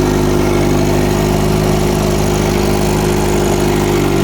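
A Peugeot 203 engine fitted to a 1955 Micromax tractor runs steadily at a loud, close idle, a continuous low rumble with a constant mechanical vibration throughout.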